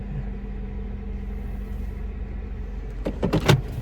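A truck's steady low rumble comes through an open window. A few loud clunks and a brief whirring burst, like a window moving, are heard near the end.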